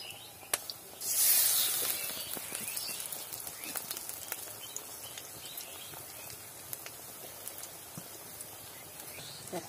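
Bitter gourd leaves coated in rice-flour batter hit hot oil in a village kitchen, setting off a burst of hissing sizzle that fades into steady crackling with scattered sharp pops, close by and with no voices.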